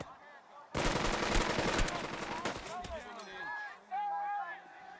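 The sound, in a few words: gunfire in Burden of Command video game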